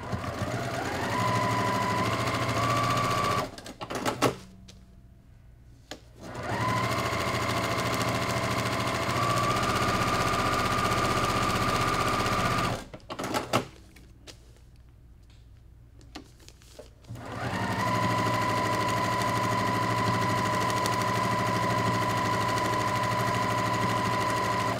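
A sewing machine stitches pieces of a scrap crumb quilt in long steady whirring runs, near and loud. The runs are broken by two short pauses with faint handling sounds before stitching resumes, and no one speaks.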